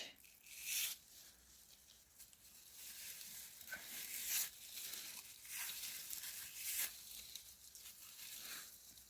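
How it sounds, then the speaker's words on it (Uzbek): Plastic bag crinkles and rustles in repeated short bursts as it is pulled and wrapped, quiet and close, with no talking. "paketni tortib o'raymiz"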